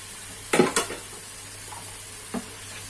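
Calamari with onion and wine in a pan, stirred with a utensil: a couple of loud scraping clatters, a soft sizzle underneath, then one more brief scrape.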